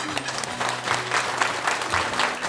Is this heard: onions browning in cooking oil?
no